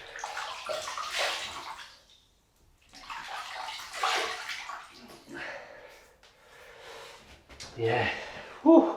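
Water splashed onto a face before a wet shave, several bursts of splashing and dripping separated by short quiet gaps, with snorting breaths and a gasp at close range.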